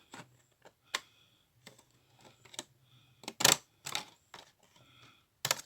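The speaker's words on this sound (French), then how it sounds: "Je sais absolument pas couper droit avec des ciseaux cranteurs." Pinking shears snip through paper in a series of separate, crisp crunching cuts, some quick and some spaced out, close by and fairly quiet, with no talking.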